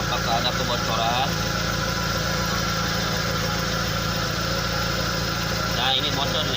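A pickup truck's engine idling with a leaking exhaust, a continuous rough, rumbling drone with uneven throbbing, close up and loud throughout.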